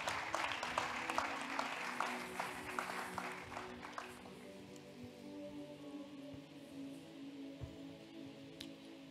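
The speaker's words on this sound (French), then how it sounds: "On peut acclamer pour la parole ce soir." A church congregation claps and cheers for the word, dense applause for about four seconds before it fades into a quieter room hum with scattered faint claps.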